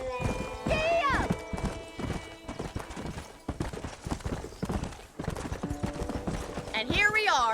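A horse gallops in the Red Dead Redemption video game, with rhythmic hoof clip-clops and a whinny over game music, while characters talk throughout.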